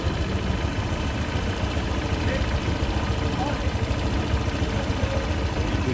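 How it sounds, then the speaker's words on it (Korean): A 2020 Honda PCX scooter with 65,400 km on it idles nearby, giving a steady, even engine hum with a rough low-end texture and no revving throughout. "엔진 소리 한번 들어보실게요"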